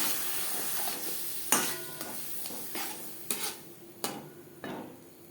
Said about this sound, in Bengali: পেঁয়াজ ভেজে নেওয়ার পর দিয়ে দেবো মশলার পেস্ট